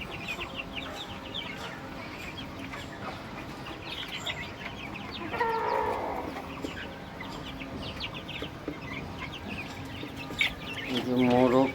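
A flock of Tiger roosters and Sonali chickens cluck steadily while feeding on bran and maize, close and continuous, with louder bursts of clucking near the end.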